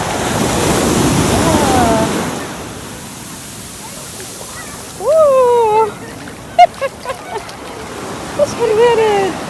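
Sea waves wash onto a beach on an early morning outing, a broad surf rush at the start that fades into softer background wash while someone talks over it in bursts.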